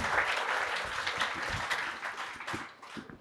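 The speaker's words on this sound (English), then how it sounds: "I think a warm round of applause before we get to the questions on that point." Warm audience applause at a book launch, a dense, steady round of clapping that tapers off toward the end.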